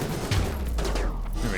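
Video game turrets fire in a continuous dense barrage of rapid shots, loud and steady throughout, with a voice briefly audible underneath.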